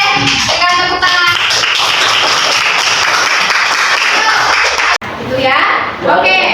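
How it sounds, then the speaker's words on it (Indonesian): A classroom of students claps hands together in a lively burst, with children's voices chattering over and around the clapping; a brief pause comes before more clapping and talk resume. "Berikan tepuk tangan."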